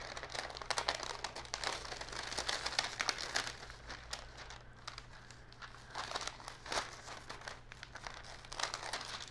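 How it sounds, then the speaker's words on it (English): A sticky-backed paper pattern sheet is peeled away slowly, giving a close, continuous crinkling and tearing rustle with small crackles that rise and fall, over a faint steady low hum. "Let's go ahead and peel the second one off."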